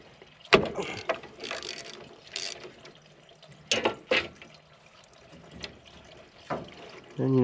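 Spark plugs are changed on a Lincoln Eagle 10000 welder. Close, sharp ratcheting clicks come in short bursts, with metallic knocks and pauses between them.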